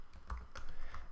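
A few quiet clicks of computer keys being pressed, soft and close, with faint background hiss.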